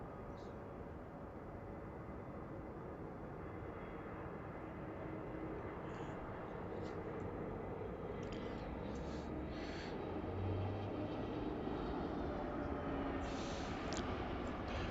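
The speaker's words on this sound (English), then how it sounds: "Oh, that's a nice landing, isn't it?" An airplane lands at Heathrow Airport, a steady broad distant roar of engines and rushing air that swells slightly, with faint talk underneath.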